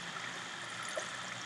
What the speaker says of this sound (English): let's stop the flow of water